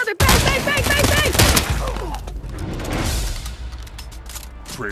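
Rapid video game gunfire, a dense burst of loud overlapping shots with mechanical clatter in the opening seconds, easing into a quieter, busier stretch of game sounds toward the end.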